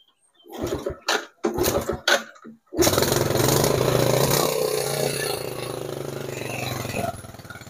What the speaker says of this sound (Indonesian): Dan tutup busi juga kita pasang, dan lalu kita engkol teman-teman ya.